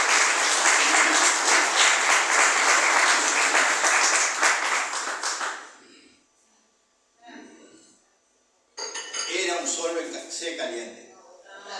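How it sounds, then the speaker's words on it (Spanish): Applause from a church congregation during a service, loud and dense for about six seconds, then fading into quiet with brief speech, before a second burst of clapping and voices returns near the end. "Denle otro aplauso al Señor."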